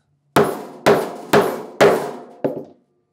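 A hammer strikes a bag punch through a leather belt five times, sharp close metallic whacks spaced about half a second apart, each ringing briefly before fading.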